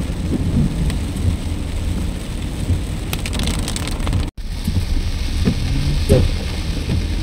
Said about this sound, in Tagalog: Ba't parang bagyo?